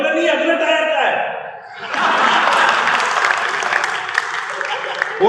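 Applause from the crowd at a live Hindi comedy show, a short burst of clapping that follows a comedian's spoken lines, then swells louder and keeps going to the end.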